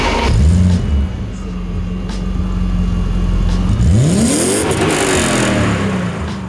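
A car with a straight-through exhaust, two resonators, an X-pipe and an original 325 rear muffler drones at a steady idle, then revs up and falls back, loud and close.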